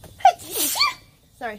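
A single sharp sneeze bursts out, followed by a short gasping breath and then a brief spoken word with a laugh.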